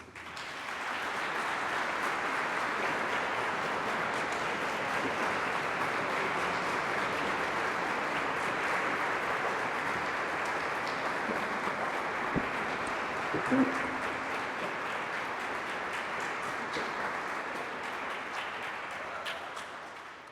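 A large audience at a university address applauds continuously for about twenty seconds, a dense, even wash of clapping that tapers off at the end.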